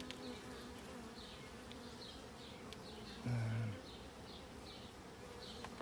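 Honey bees drone and buzz steadily around an open hive, a dense close swarm sound with faint chirps above and a brief louder thump partway through.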